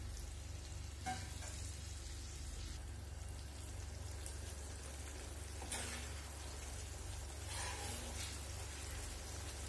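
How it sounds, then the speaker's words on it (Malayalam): Fried fish pickle with vinegar simmers in a pan, giving a steady bubbling sizzle throughout with a few brief stirring scrapes, close and moderately quiet, with no talking. "ഇതിന്റെ മേലേക്ക് ബാക്കിയുള്ള വിനാഗിരി കൂടെ ചേർത്ത് കൊടുത്തിട്ട് ഒന്ന് തിളപ്പിച്ചിട്ട് നമുക്ക് ആറാൻ വെക്കാം"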